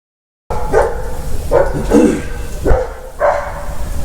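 Dogs bark in the open, several loud, spaced barks after a silent start. One is doubled, and a few yips sound between them.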